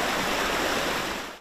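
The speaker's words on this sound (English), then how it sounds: "And now we've got a river in our front yard." Floodwater from six inches of rain rushes like a river across a front yard after washing out a culvert, a loud, dense, continuous roar of flowing water that fades slightly at the very end.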